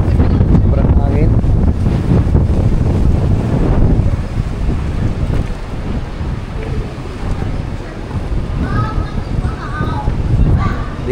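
Gusty harbour wind at Victoria Harbour in Central, Hong Kong, blasting the microphone with a dense, continuous rumble that eases slightly midway, while someone talks beneath it.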